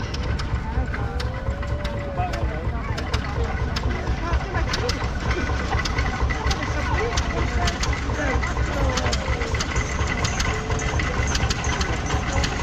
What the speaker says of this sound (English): Next tractor part of our feature line is kind of unique. This is an Eagle tractor.